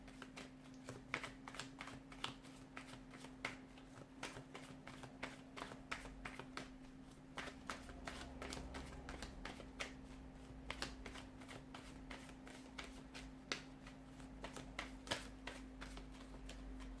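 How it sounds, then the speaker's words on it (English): A deck of tarot cards being shuffled by hand close up, a long run of quick crisp riffling taps and flutters repeating steadily, with a low steady hum underneath and no talking. "let's give the cards a shuffle and begin"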